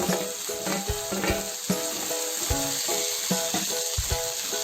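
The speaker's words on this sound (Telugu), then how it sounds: "ఇప్పుడు ఎర్రగడ్డలు బాగా ఎర్రగా వేగాయి చూడండి, ఎర్రగడ్డలు వేగిపోయాయి" Onions and tomatoes fry in a pan for a stuffed ivy gourd curry, giving a steady close sizzle broken by repeated scraping and stirring knocks, with no talk.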